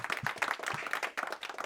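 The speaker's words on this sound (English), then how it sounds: "Give him a huge round of applause." Dense, steady clapping from a crowd at a campus quiz competition, a short continuous burst of applause at moderate distance.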